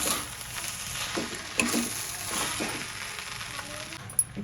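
Vegetable fried rice with soy sauce being stir-fried in a pan, a steady low sizzle with soft scraping stirs and a couple of sharp clinks of the spoon against metal, no voices.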